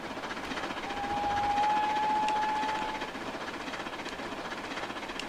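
A train rolls along a Scottish East Coast Main Line route in the Trainz console game, heading slowly toward Edinburgh at around 15 miles an hour, giving a steady moderate rumble with a sustained whistle-like tone swelling through the middle.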